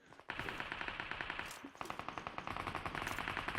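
Automatic gunfire in the PUBG Mobile battle game, with rapid continuous bursts of shots rattling almost nonstop and a brief pause between volleys.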